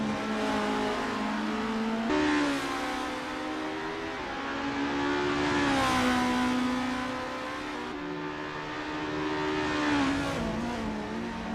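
Formula race car engines in the Assetto Corsa sim at Mont Tremblant GP whine continuously at high revs, pitch climbing and dropping sharply through gear changes, with no talk over them.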